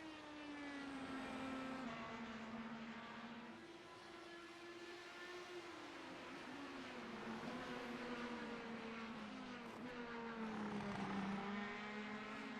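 An IndyCar race car in a racing video game at Mid-Ohio roars along with a sustained, wavering engine whine that shifts pitch as it accelerates and lifts, loud and continuous throughout.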